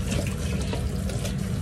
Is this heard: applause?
no